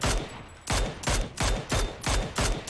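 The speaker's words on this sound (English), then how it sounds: "A lot of shots from North 71." Rapid bursts of gunfire in PUBG during an esports match, about five or six sharp, loud volleys in quick succession separated by brief gaps, with no talk over them.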